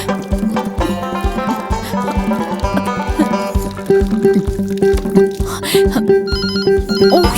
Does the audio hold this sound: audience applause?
no